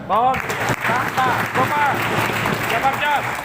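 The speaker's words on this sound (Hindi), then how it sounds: "तो मैं चाहूंगा एक बार राजीव सर के लिए जोरदार ताली।" An audience claps loudly for a speaker at a company LCP program event in Nainital, producing a strong, continuous burst of applause with voices speaking over it throughout.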